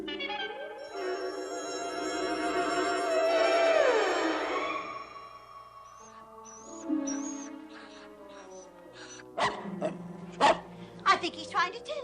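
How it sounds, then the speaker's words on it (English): A hungry dog whimpers with rising and falling whines, then gives several short sharp barks toward the end, mixed in with people talking nearby. "Reba, when are you going to feed this dog?"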